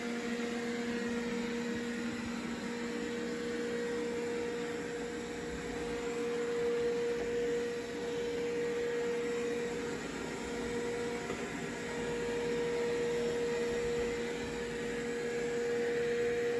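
A Roborock S5 robot vacuum spot cleaning shattered glass hums with a steady motor whine and airflow hiss, constant and moderately close, with no talking.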